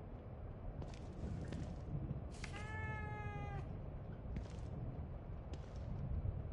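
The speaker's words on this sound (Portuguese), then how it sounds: "Eu não me lembro de ter um gato." A single drawn-out, wavering cat meow in a horror video game, rising and falling over about a second against a steady, murky ambient hum with faint thumps around it.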